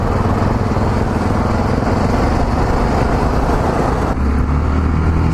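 A motorcycle engine at a riders' meet-up by a fuel station in Brazil drones steadily at close range, a loud continuous rumble with a slight shift in tone near the end and no speech over it.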